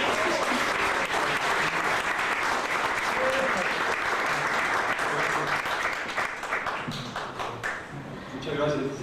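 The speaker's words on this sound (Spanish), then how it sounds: "les agradezco un aplauso" Loud, sustained applause from a large crowd, dense clapping filling the room and tapering slightly near the end, with some voices underneath.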